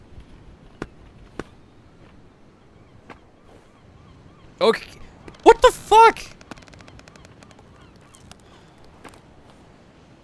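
Bird honks in the climbing video game Peaks of Yore, a short burst of three or four loud goose-like calls in the middle, with sparse clicks around them and someone briefly speaking.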